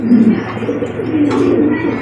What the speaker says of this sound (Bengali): দেখেন কোয়ালিটি দেখেন, ডাক দেখেন, কত সুন্দর কোয়ালিটি একজোড়া কবুতর দেখেন।